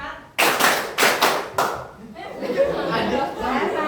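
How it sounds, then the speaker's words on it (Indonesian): A class of students claps together in sharp, evenly spaced bursts, about four strong claps in a steady rhythm, followed by murmuring voices and lighter scattered taps. "Tepuk 1, 2, 3, 4."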